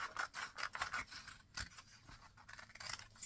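Scissors cutting paper along a ruled straight line for a folded book craft, a close, quick series of crisp snips and rustling paper strokes, fairly quiet with no talk.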